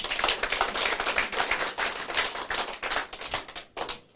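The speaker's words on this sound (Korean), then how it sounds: "박수 한번 해주십시오" A seated audience at a business presentation claps steadily, a dense, even patter of many hands that holds for a few seconds before thinning out.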